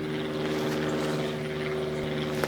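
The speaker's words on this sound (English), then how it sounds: "Airplane." Steady droning hum of a propeller aircraft passing overhead, continuous and fairly loud with a low engine tone throughout.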